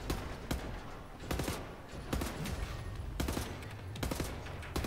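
Short machine gun bursts in Wolfenstein: The New Order, with loud clustered volleys recurring about every second and steady battle noise underneath.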